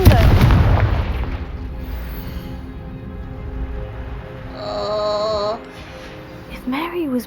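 A Confringo spell in Hogwarts Legacy opens with a loud, booming explosion that fades into a rumbling tail, followed by quieter magical tones and faint in-game sounds.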